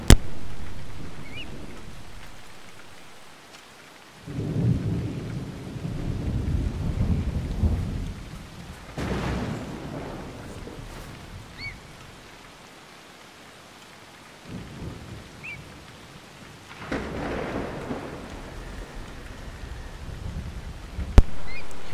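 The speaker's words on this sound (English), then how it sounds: "Hear that storm? That is beautiful." A thunderstorm rolls through with steady rain and two long, loud rumbles of thunder building and fading, the rain hissing continuously in between.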